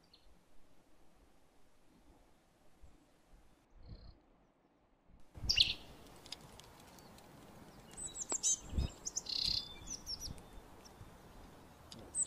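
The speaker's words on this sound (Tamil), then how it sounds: "பறவை என்ற ஒலி" Quiet at first, then a few bright bird chirps and calls over a soft outdoor ambience, scattered and moderately near.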